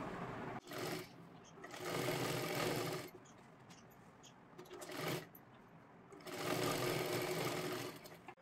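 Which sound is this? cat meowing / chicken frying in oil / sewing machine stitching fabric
sewing machine stitching fabric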